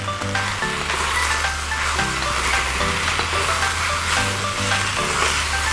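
Beef and carrot strips sizzle steadily in a pan for a Korean-style stir-fry, a close, continuous crackle and hiss with no talking.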